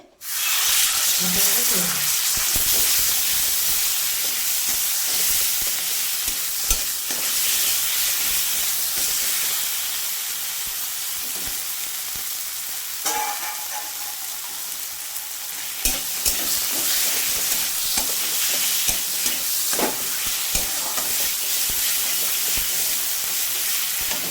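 Chopped banana flower fries in oil with a loud, continuous sizzle and hiss, stirred with intermittent scraping clicks over the full stretch.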